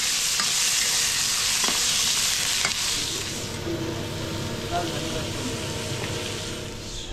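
Chicken frying and being stirred in a hot pan in a traditional Nepali kitchen in Kathmandu, a dense continuous sizzle with scraping stirs, loud and close, with faint voices underneath.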